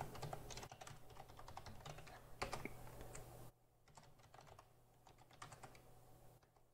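A password is tapped out on a computer keyboard: a quiet, irregular patter of key clicks with brief pauses, heard faintly and close up.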